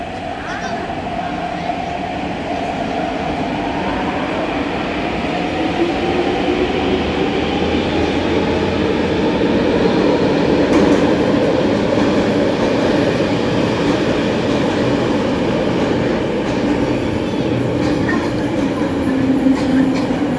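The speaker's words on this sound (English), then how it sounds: "C train coming in now." A Hong Kong MTR train rumbles steadily into Tai Wai Station, a sustained loud roar with metallic rail noise and a rising whine, while a crowd murmurs faintly underneath.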